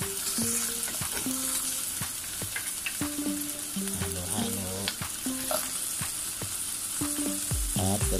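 Chicken afritada frying in a pan, a steady sizzle with repeated clinks and scrapes of a utensil stirring close up, no talking.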